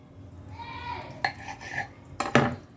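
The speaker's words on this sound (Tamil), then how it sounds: "ஒவ்வொன்றையும் இப்படி ரெண்டு ரெண்டாக கட் பண்ணிக்கலாம்" Rolls of chicken kachori dough are cut in two with a knife: soft scraping, then a couple of sharp, close taps of the blade against the board, with no voices.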